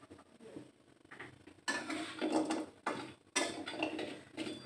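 Fried pumpkin bori lifted out of a pan of hot oil, soft clinks and scrapes of a utensil against the pan with bursts of sizzling, close and fairly quiet, no talking.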